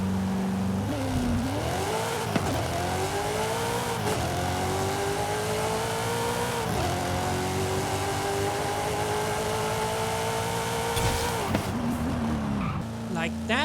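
A 1987 Buick Regal GNX in Forza Horizon 5 launches hard, its engine revving up through repeated rising gear pulls with brief drops at each shift, loud and close throughout, with a voice talking over it.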